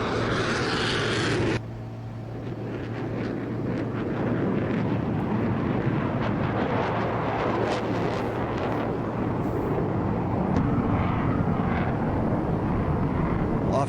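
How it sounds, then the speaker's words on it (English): A Pakistani JF-17 Thunder fighter jet takes off with a loud, steady, broadband engine roar that holds for the whole stretch, and wind noise rushes across the microphone. "إقلاع طائرة JF-17 الباكستانية"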